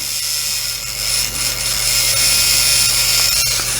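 A battery-powered hobby paint mixer whirring steadily in a small pot of hobby paint, a continuous high-pitched buzzing hum at close range with slight wavering, no talking.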